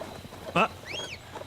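A macaque monkey in the game Indiana Jones and the Great Circle gives a short, sharp screech followed by a rising and falling whooping call, faint and somewhat distant over low background ambience.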